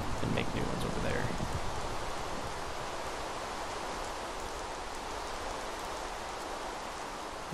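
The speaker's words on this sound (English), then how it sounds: "It's raining cats and dogs." Heavy rain pours steadily in the Minecraft mod Better Than Wolves, a dense, loud hiss of broadband patter that holds constant throughout with no voices over it.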